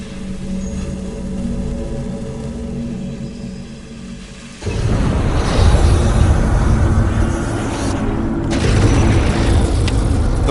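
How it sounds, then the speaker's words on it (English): A flamethrower blasts burning gasoline toward a hay bale some 60 feet away: a low mechanical rumble gives way to a sudden loud, roaring whoosh of fire that holds steady and swells again near the end, with no talking. "The flamethrower fires burning gasoline over 60 feet and instantly incinerates the target Richard has set up."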